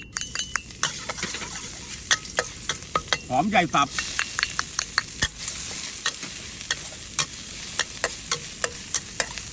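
Chopped onion stir-frying in a hot oiled wok with minced garlic, with steady sizzling and frequent sharp clinks of a spatula scraping the pan, and a brief spoken phrase midway.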